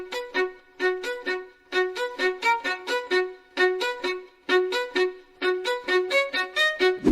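AI-generated violin in ACE Studio playing a short-note melody, phrases of quick detached notes separated by brief pauses, bright and close, alone without speech.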